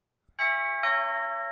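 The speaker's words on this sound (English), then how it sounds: "That is a doorbell." A doorbell sound effect from a soundboard plays a loud two-tone ding-dong, the second chime ringing out and sustaining to the end after a faint click at the start.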